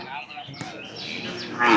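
Cattle at a native cattle market in Palayakottai, a low mooing call rising near the end against open-air market ambience and faint background voices.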